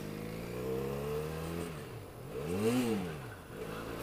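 A Benelli Leoncino 500 motorcycle with a 500cc engine revs up and down twice, its pitch climbing and falling in smooth sweeps, close and steady with no talk over it.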